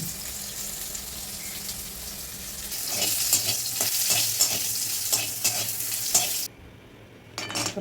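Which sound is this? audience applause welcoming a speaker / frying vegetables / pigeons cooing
frying vegetables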